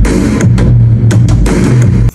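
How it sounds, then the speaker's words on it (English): A drum beat built entirely from sampled hits on a cup, with short percussive strikes over a steady low bass line, playing loud and continuous with no voices. "Drums."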